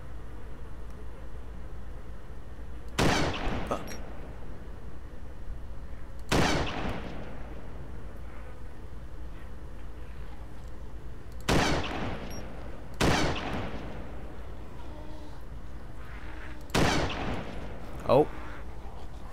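Sniper rifle shots in DayZ, four or five loud single cracks spaced several seconds apart, each with a long fading echo over a low steady background hum.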